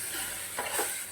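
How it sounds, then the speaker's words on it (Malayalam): A spoon stirs hariyali chicken in a hot pan, a brief close scrape and soft sizzle lasting about a second. "നമുക്ക് തുറന്ന് ജസ്റ്റ് ഒന്ന് ഇളക്കി കൊടുത്തിട്ട്"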